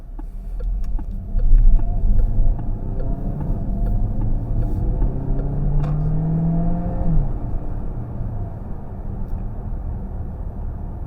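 The petrol engine of a 2024 Peugeot 408 GT plug-in hybrid hums steadily at low pitch, rising and sweeping in tone as it accelerates, with a brief rev near the middle.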